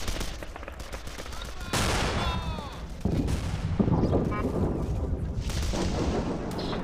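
A WWII strategy video game at Küstrin lays down suppressive fire: rapid, crackling gunfire and heavier cannon and flak booms rattle continuously at a loud, steady level.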